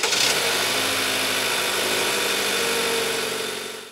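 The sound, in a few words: Toyota A25A engine running loud, direct injection fuel pump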